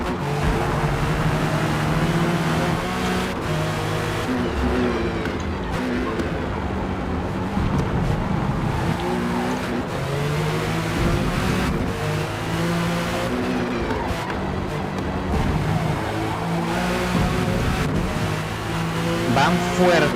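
In a racing video game at Brands Hatch, a Dodge Viper race car closes in. Engines roar continuously and loudly with shifting pitch, and occasional tire squeal comes through as the cars run close together.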